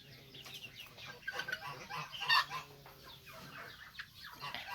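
Chickens, a bantam and junglefowl cross among farmyard hens, cluck in scattered short bursts at moderate distance, fairly quiet against background ambience.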